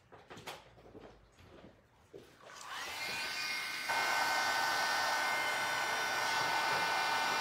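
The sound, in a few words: heat gun blowing for art journaling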